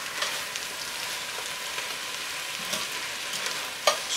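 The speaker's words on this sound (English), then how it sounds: "we're going to just keep sauteing that broccoli rabe" Broccoli rabe sautéing in a pan, an even, steady sizzle like light rain with faint stirring ticks and one louder clack near the end, no speech.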